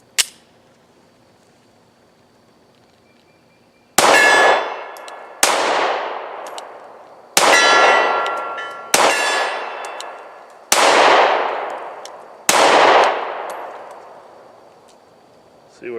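A Smith and Wesson M&P Shield 2.0 9mm pistol fires six loud shots at an uneven pace, each ringing off a steel target with a clanging echo that decays before the next.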